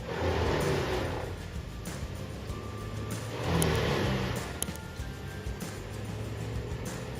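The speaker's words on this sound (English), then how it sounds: "thanks to an advanced wood chipping machine with a powerful engine combined with sharp" A wood chipper with a powerful engine and sharp blades shreds pine tree wood, giving a continuous loud engine roar with grinding noise that swells briefly midway.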